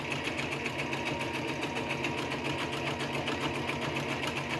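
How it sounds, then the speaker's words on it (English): A sewing machine stitches a pleated fabric face mask with a rapid, steady mechanical whir and needle clatter, running continuously and close by with no talk. "I'm just kind of letting the sewing machine do the work for me"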